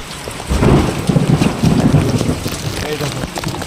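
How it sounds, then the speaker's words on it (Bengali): Heavy rain pours down with deep rumbling thunder rolling through, loud and close, in a flooded home setting beside a railway line; no one speaks. "এখনই বৃষ্টি হয়ে গেল।"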